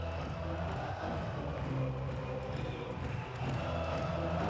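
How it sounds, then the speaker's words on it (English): Spectators at a beach volleyball Grand Slam semifinal in Klagenfurt, Brazil against the USA, make a steady, dense crowd murmur with swells of cheering that stay fairly constant throughout. "Listen to the crowd, they're getting into this."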